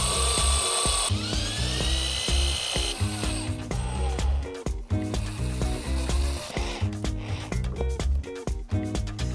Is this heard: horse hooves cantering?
no